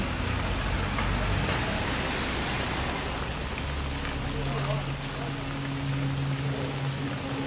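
Heavy rain pours steadily in a continuous broadband wash, loud and close, with a low hum and faint background voices underneath throughout.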